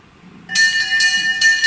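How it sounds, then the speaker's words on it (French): An electric bell rings alone after half a second of near silence, a loud, steady metallic ringing that lasts a little over a second, with brief swells in level. "Tiens, la sonnerie"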